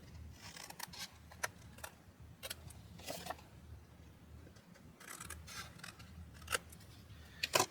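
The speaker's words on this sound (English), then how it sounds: "So I'm just going to trim the corners." Scissors snip the corners off a scored paper pocket piece for a wedding album craft, producing a quiet, irregular series of crisp close-up cuts and small paper rustles.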